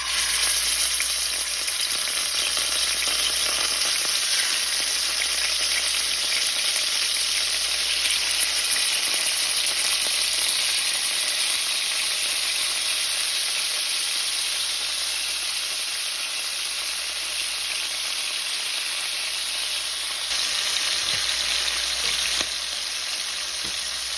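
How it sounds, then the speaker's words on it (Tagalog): Chicken wings for adobo frying in oil in a pan, a loud, steady, close sizzle and hiss that carries on unbroken throughout with no talk. "Iprito lang natin ng bahagya yung chicken natin."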